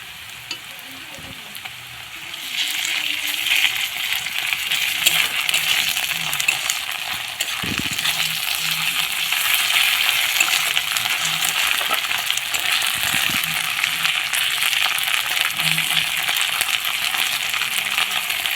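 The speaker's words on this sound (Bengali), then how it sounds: "পেঁয়াজের সাথে রসুনটা খুব ভালোভাবে ভেজে নেব। এরপর দিয়ে দেব আদা বাটা।" Onion, garlic and ginger paste fry in a pan with a close, constant hiss, broken by scattered clicks and scrapes from stirring.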